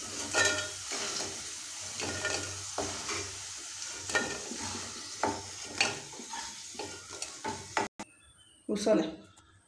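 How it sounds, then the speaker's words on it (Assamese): Onions and five-spice seeds fry in hot oil with a steady sizzle, while a spoon scrapes and stirs at regular intervals, close and fairly loud. A sharp burst of spitting oil comes near the end. "ইয়াত এতিয়া তেলখিনি গৰম হৈ আছে, মই ইয়াত পিঁয়াজখিনি দি দিছোঁ।"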